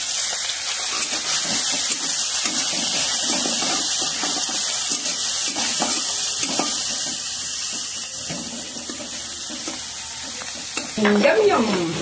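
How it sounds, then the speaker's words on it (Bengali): Shrimp fry in white oil with a continuous close hissing sizzle and occasional stirring scrapes, ending in a brief burst of clatter. "চিংড়ি মাছ ভাজা হবে।"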